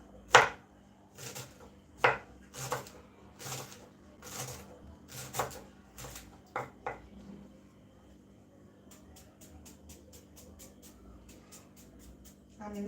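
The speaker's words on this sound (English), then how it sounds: "I'm cutting this onion to make samosas." A knife chops an onion for samosas on a board: a quiet run of irregular, separate cuts gives way to a quicker, evenly spaced series of light taps near the end.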